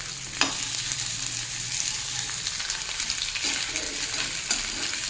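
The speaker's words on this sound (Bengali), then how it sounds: "ফ্লেমটা এখন হাইতেই আছে হাই ফ্লেমেই আলুটা ভাজবো" Potatoes frying with onion over a high flame in a pan for a light fish curry, a continuous close hiss and crackle with a couple of soft stirring knocks.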